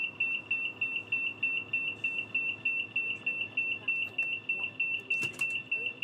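A steady pulsing electronic alarm tone sounds continuously in a train driving game on the West Coast Main Line, beeping in a fast regular rhythm over low cab rumble, with a brief clatter near the end.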